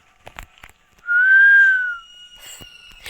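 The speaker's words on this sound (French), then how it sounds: "Le mec là qui arrête pas de siffler." A robot in the horror video game Granny gives a single clear, sustained whistled note lasting about a second, slightly rising then falling, with faint clicks and background sounds around it.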